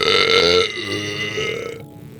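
One long, loud, drawn-out burp right up close, deep and rumbling, fading toward its end, with no talking over it.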